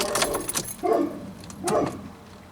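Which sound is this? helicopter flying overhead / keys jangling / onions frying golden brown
keys jangling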